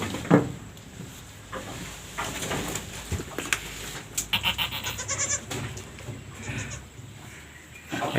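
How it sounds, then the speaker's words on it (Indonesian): A female goat bleats repeatedly, with wavering, nasal cries close by over a background of rustling and faint farmyard noise. "induk kambing betinanya susah dipegang, masih agak takut, kurang jinak dia"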